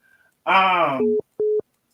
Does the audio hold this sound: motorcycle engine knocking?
no